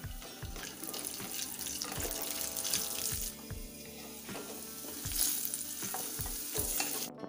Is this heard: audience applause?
no